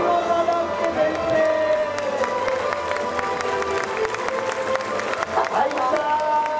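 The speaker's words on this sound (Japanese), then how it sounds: "拍手よろしくお願いします。" A crowd claps at a Super Formula pole position talk event for the driver who took pole at Fuji Speedway, with a PA announcer talking over the steady mid-level applause and occasional cheers.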